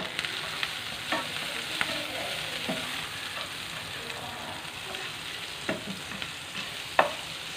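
Butter sizzles and fries in a pan while French toast is cooked, making a steady hiss broken by small clicks and scrapes of stirring, with no talking.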